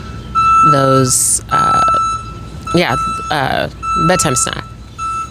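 A steady electronic beeping tone repeats in the background while a person talks loudly over it nearby.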